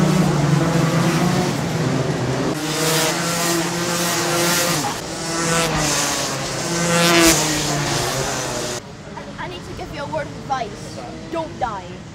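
Racing go-karts drive on a drying track, their engines droning and rising and falling in pitch as they pass, loud and close, with a person talking over the noise.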